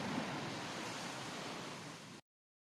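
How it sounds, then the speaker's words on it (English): Water waves wash steadily through the night in a tabletop storytelling scene, a soft, continuous surf hiss that holds an even level alone for about two seconds before cutting off abruptly. "you're left with just the sound of water in the night"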